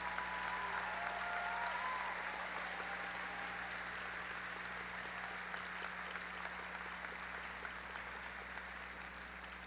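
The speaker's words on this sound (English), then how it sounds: "Let's give them a big round of applause" Graduation audience at Cedar Park gives faculty and staff a round of applause, a sustained wash of many hands clapping in a large hall, fairly distant, fading slightly over about ten seconds over a low steady hum.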